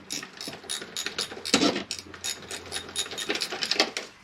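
A ratchet fitted with a 10mm socket turning a purge valve bolt on a GM 3.6 V6, giving a quick run of close, clicking pawl ticks, quiet, with one louder clunk partway through.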